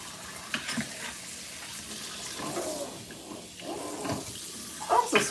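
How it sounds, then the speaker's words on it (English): Cold water runs from a tap onto frozen bacon in a home kitchen, a soft steady hiss with small splashing bursts and clatter, fairly close and alone without talk. "let's let some cold water in here for this bacon to let that bacon unthaw"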